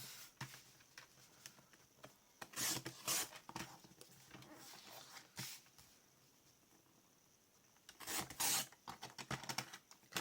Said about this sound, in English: We then have to trim some of this off.